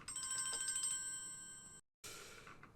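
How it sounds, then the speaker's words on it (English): Phone ringtone of an incoming call trilling in quick repeated electronic bursts, then cutting off abruptly, followed after a brief silence by faint room noise. "It's a phone call."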